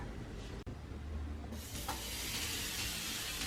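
Buttered bread placed on a pan over a low flame starts a steady hissing sizzle that rises suddenly and continues evenly, close and moderately loud, after a brief quieter hiss and a soft knock.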